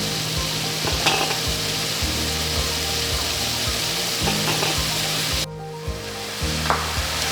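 Seasoned chicken fries in a pan for a chickpea-and-chicken dish, giving a loud, steady sizzle over the whole stretch. Scattered clinks and scrapes from stirring break through, and the sizzle briefly dips and then returns.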